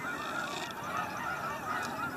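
A flock of geese honks again and again while flying in to land on a lake during snowfall, a steady overlapping chorus of calls heard from a moderate distance with no talking.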